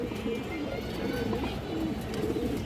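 Maxi Giribaz pigeons, a pure breeding pair with a hen, coo in low repeated murmurs, close by and continuous over a steady background hum.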